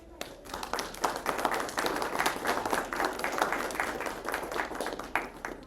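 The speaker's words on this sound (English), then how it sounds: "we should give a round of applause to Daniel." An audience at a book presentation gives a round of applause, many hands clapping in a lively, uneven patter that stays fairly steady for several seconds.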